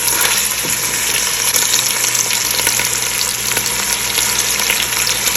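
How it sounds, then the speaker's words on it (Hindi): Mutton browning with onions in a pot gives a steady, loud, dense sizzle with a faint stirring scrape. It runs without a break through the whole stretch, and no one speaks. "तकरीबन 2-3 मिनट मैंने जो है वो गोश्त को भुना है।"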